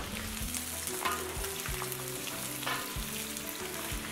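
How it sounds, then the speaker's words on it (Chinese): Chicken crown fat rendering and frying in a wok, stirred with a spatula, making a continuous crackling sizzle with occasional scraping taps, all beneath prominent background music. "用铲子一边炒一边烘，你会发现啊，这个鸡冠油出了很多的油，这像不像鸡冠油自己在炸自己呢？"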